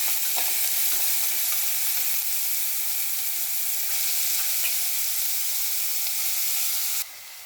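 Finely chopped banana stem frying and being stirred in a pan for a Tamil stir-fry, with a loud continuous sizzle and repeated scraping stirs until the sizzle drops sharply near the end.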